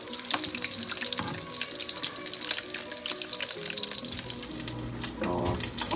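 Onion pakoras deep-frying in oil, a steady soft bubbling crackle close by, with a louder burst of sizzle near the end and no talking.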